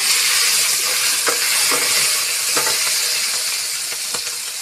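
Chopped tomatoes and green chillies frying in mustard oil with bay leaf, dried chilli and whole cumin in a home kitchen, giving a steady close hiss and sizzle with a few soft stirring knocks and no talk.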